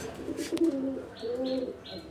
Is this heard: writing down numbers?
no